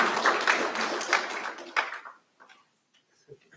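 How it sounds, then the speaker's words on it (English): Audience applause at a recognition ceremony, a dense patter of many hands clapping for about two seconds and then tapering off to a few scattered claps and near silence. "I appreciate the claps."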